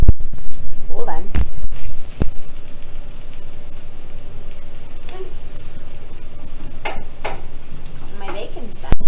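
Bacon fries in a pan at breakfast with a soft, steady sizzle and a few sharp clicks and scrapes, fairly quiet and close, with no talk over it.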